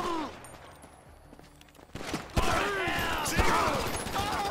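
Pistol gunfire in Grand Theft Auto V, with a few faint mechanical clicks and footsteps before a rapid run of sharp, loud shots and echoing bangs that fill the second half.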